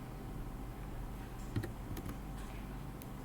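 Light keystrokes on a computer keyboard while a router's configuration is entered, faint and sparse, with a sharper key press in the middle against a steady low hum.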